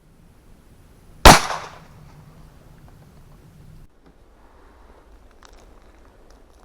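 A single sharp, loud report from a Smith & Wesson pistol in 30 Super Carry rings out close by, followed by a brief decaying tail and then quiet.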